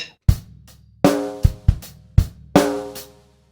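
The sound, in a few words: drum kit groove, bar 2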